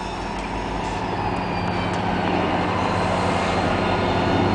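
A MARC commuter train stands at a station near Martin State Airport, its loud, steady diesel rumble and hum filling the air without a break and with no voices.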